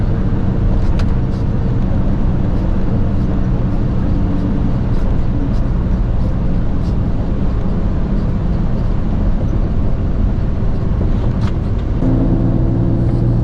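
A car travels in slow traffic on a rainy day, a steady loud interior engine and road rumble that holds constant throughout, with no talking.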